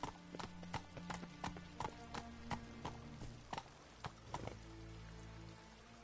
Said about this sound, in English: I'm riding a horse right up on in here.